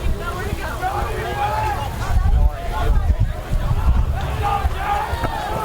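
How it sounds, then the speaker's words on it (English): Strong wind at an outdoor college football stadium during a Mount Union at Wilmington game, loud buffeting gusts rumbling into the microphone throughout, with crowd babble and a commentator's voice under it. "Yeah, it's very windy out."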